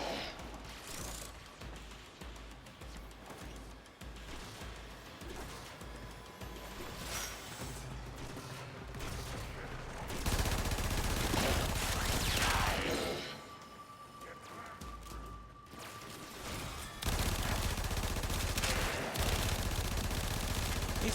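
Rapid bursts of video game gunfire crackle through a busy mix of mechanical clatter and crashes, growing louder and denser in the second half with only brief lulls between volleys.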